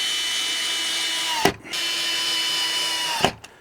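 A power drill runs steadily, driving two screws into a moulded plastic bracket on a Duramax StoreAway 1200L plastic shed, each drive ending with an abrupt stop, close and fairly loud, no talk.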